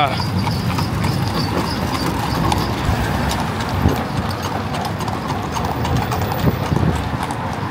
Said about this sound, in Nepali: माल्टामा घोडा पनि देख्न पाइन्छ गाइस